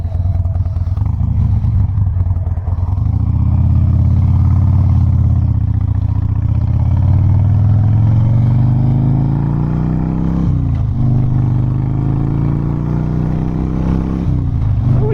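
A Harley-Davidson Dyna Low Rider with just under 9,000 miles rumbles steadily and loudly while being ridden, the engine pitch rising slowly as it pulls through the gears, with wind noise and no talk.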